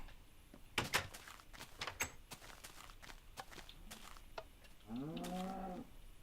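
A Minecraft cow lets out a drawn-out, wavering moo near the end, preceded by scattered footsteps and soft in-game clatter, with no talk over it.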